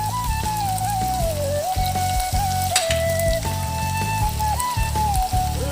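Onion and ginger paste fries in hot oil as turmeric powder is added, a steady dense sizzle running throughout beneath background music.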